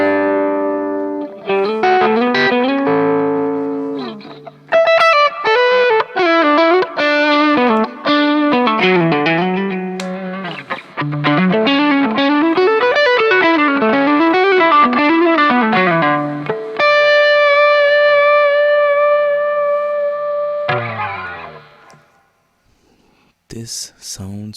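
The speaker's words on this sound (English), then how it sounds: "This is a very round type of drive." Electric guitar played through an Amplitube X-Drive software drive pedal on its Yellow setting, a round, warm overdrive; melodic lines and sustained chords ring loud and continuous, ending with a brief fade and a few picked notes.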